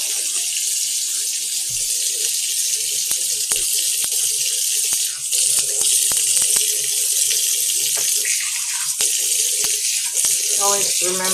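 Water runs steadily from a faucet into a sink, a constant broadband rush filling the whole stretch, with brief clicks and a few faint voices or clatters in the background.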